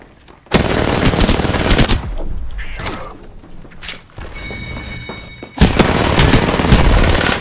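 Automatic weapon fire in the Apex Legends video game: two long, loud sustained bursts of rapid shots separated by a quieter stretch of mechanical game sounds.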